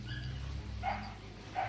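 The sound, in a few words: dog barking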